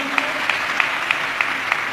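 A church congregation at a Sunday service claps in time, with six evenly spaced, fairly loud claps over a steady background hum.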